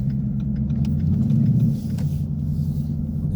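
A steady low engine rumble and road drone from a 2016 Ford Mustang GT on Bridgestone Blizzak WS80 winter tires, driving through 8 to 10 inches of snow, heard continuously from inside the car.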